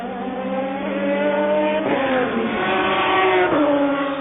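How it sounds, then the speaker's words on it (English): BMW race car at the 1999 Le Mans 24 Hours, its engine a unit also used in the McLaren sports car, howling loud and steady at high revs, with the pitch dipping and rising twice as it shifts or passes. "Lovely noise the BMW makes."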